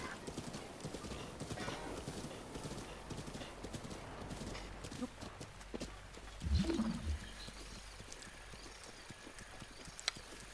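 A horse gallops in Zelda Breath of the Wild, rapid hoofbeats running steadily through the stretch under a low game backdrop, with a louder thud partway through.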